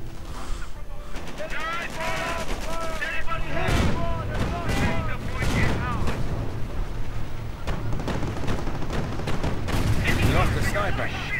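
Rapid sniper shots and booming artillery fire in a 1v1 strategy video game battle, dense overlapping blasts and cracks throughout, with a voice commentating over them.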